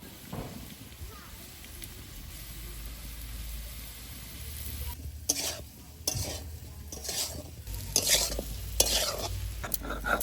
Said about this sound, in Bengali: মাছ তেলের মধ্যে আমি আলুগুলো একটু কষে নিলাম